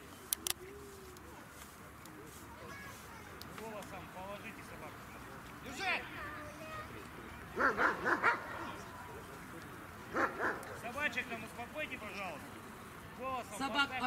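Dogs at a dog obedience competition give scattered yips and barks, some close and some farther off, in short bursts through an outdoor soundscape with faint background voices.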